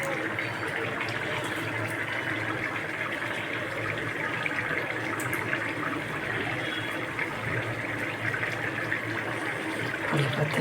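Curry leaf water pours steadily into a pan of chicken masala, a continuous wet splashing and trickling stream that runs for about ten seconds without talk.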